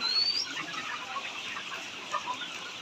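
Chickens on a layer poultry farm housing about 4,000 birds cluck and murmur as a dense, faint background chorus, with a few sharper squawks rising above the steady barn noise.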